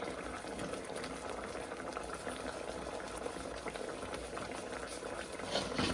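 Gravy for a green bean casserole boils in a pot on a stovetop, a steady dense bubbling and popping that holds close and even throughout with no talk.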